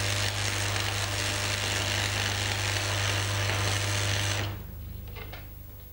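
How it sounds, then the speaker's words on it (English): Arc welding on steel plate with the current set too high, a loud steady buzzing crackle held for about four and a half seconds before cutting off to a quiet hum. "it'll be easy to strike the arc and keep it going, but the weld bead will be flat and spattery"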